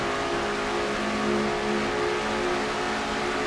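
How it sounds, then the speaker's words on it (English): Onboard stock car engine in a racing video game, a steady droning roar held at high revs throughout, continuous and close with no breaks. "you're on board Kat Batson's car as she tries to make her way through the field"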